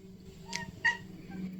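A cat sitting on a lap during a Zelda game gives two short, soft meows close by, over a steady low hum, with no talking.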